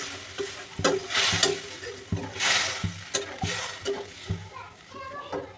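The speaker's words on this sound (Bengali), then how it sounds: "এখন আমি অল্প করে জল দিয়ে দিব" Spiced fish curry frying in a pan, with loud sizzling and spoon scrapes after water goes in, stirred in repeated strokes at close range while a voice is heard faintly in the background.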